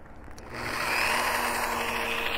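A drill-mounted rubber-finger plucker spins up to strip scalded quail, a steady whirring motor roar that builds after a brief start and then holds loud and close.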